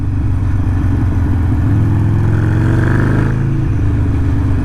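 Harley-Davidson motorcycle with a Screamin' Eagle race tuner remap and open exhaust revving hard in second gear, a loud, close, deep growl that climbs steadily in pitch with no popping and no talk.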